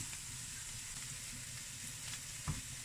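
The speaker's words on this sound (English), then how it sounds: "So they're just going to be frying in their own juice without any additions." A steady, quiet sizzle of vegetables frying in their own juice in a pan, with a soft crackle and one brief clatter near the end.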